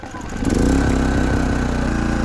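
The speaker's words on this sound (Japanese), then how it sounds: "エンジンを始動します。" Portable generator engine cranking and catching, then settling into a steady mid-pitched running drone, close and fairly loud over a couple of seconds.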